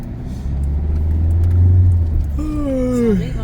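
A car drives along a road with a steady low engine rumble that swells and eases slightly. Voices talk over it toward the end.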